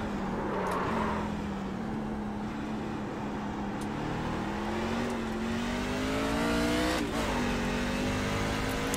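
NASCAR Class C race car in iRacing sliding its rear through the esses at Circuit of the Americas, a steady loud engine drone whose pitch climbs gradually, with a brief shift-like dip near the end and no talk.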